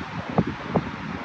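Gusty wind buffets the microphone at a cliffside salmon fishing spot in Chitina, Alaska, a steady broadband rush with two brief louder gusts.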